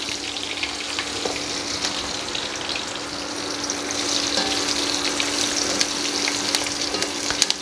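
Spices frying in hot oil with turmeric in a pan make a steady close sizzle and crackle with a little stirring throughout.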